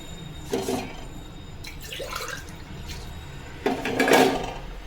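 Glasses of water tipped into a pot for a rice-flour vadiyalu batter, heard as three short, close splashes and trickles spread across a few seconds over a quiet room background.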